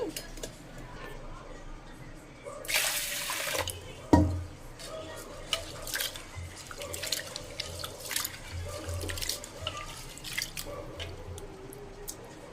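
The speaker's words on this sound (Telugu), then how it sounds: "ఇప్పుడు వీటిని ఒక చెంబు నీళ్ళు పోసుకొని శుభ్రంగా అయితే ఒకటికి రెండు సార్లు అయితే కడుక్కోవాలి" Ration rice being washed by hand in a pot of water, with intermittent splashing, sloshing and dripping that is fairly soft, close by and uneven in rhythm, including one louder splash burst early on.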